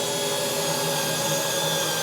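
A power drill bores steadily into a wooden workbench to mount a large vise, a continuous close whirring grind with no talking.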